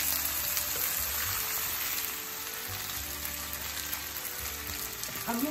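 Diced potatoes crackle and hiss steadily in butter in a hot pan, a constant close sizzle with faint low hum and a few light stirring sounds.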